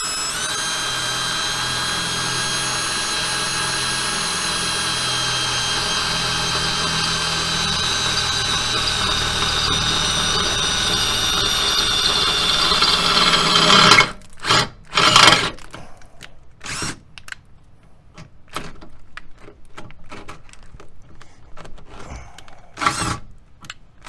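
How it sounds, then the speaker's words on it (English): A power drill drilling holes for an RV scissor jack stabilizer whines steadily for a long stretch, then cuts into shorter bursts with quiet pauses between them, close and loud. "they gave you the correct drill bit size for drilling these holes"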